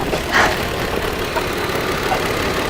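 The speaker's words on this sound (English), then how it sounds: "the compressor just got kicked on again" A 2007 Kia Sedona idles steadily as its air conditioning compressor kicks on, a brief added whir over the constant low engine hum.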